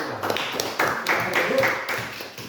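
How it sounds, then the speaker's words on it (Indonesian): A classroom group gets a short round of clapping after their presentation, with a burst of mixed hand claps and taps lasting a couple of seconds amid room noise. "kita beri tepuk tangan untuk kelompok"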